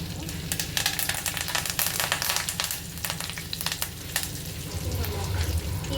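Curry leaves frying in hot oil with mustard seeds for a greens curry, giving a steady close crackle and sizzle with scattered sharp pops throughout, alone without talk.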